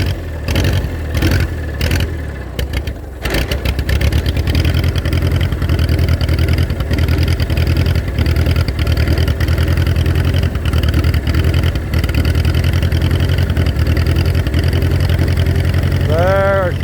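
A tractor engine runs close and loud after the choke is pushed in, starting with uneven sputtering bursts before settling into a steady continuous rumble, with a voice heard briefly.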